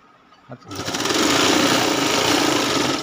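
A sewing machine stitching a two-inch border onto a quilt made from old sarees: a small click, then a continuous, close, loud mechanical whir that runs steadily for a couple of seconds.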